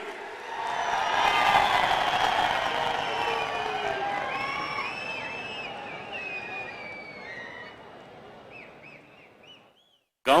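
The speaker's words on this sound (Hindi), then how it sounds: "आपकी जोरदार तालियों के बीच" Loud, sustained applause and cheering from a large audience at a tunnel inauguration during a panchayat day event, swelling early and slowly tapering off over about ten seconds.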